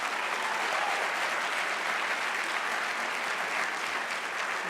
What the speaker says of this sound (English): Let's give Lindsay a huge round of applause.